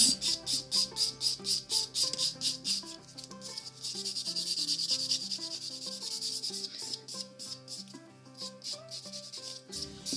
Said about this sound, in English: I'm going to come in with a bit of a buff. Just get rid of some of those filing lines.